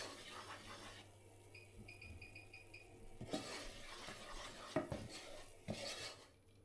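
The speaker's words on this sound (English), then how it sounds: "The recipe instructs us to incorporate an equal amount of flour into the butter until a dry paste forms" Flour is stirred into melted butter in a pan to make a dry paste for béchamel: a quiet scrape of a utensil against the pan, with occasional soft knocks and clinks and no talking.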